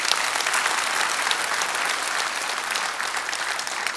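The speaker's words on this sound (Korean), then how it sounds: "시장님께 박수 좀 주시죠." A lecture audience in Pyeongtaek gives the mayor a round of applause, a continuous, bright, evenly packed clapping that holds steady from start to finish.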